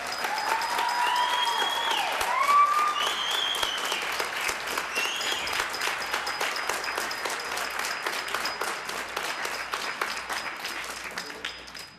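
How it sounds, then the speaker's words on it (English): Audience applause at a high school orchestra concert and senior recognition night, steady crisp clapping from a hall full of people, sustained for the whole stretch with a few faint cheers and whistles mixed in. "these guys deserve an extra round of applause for being so committed"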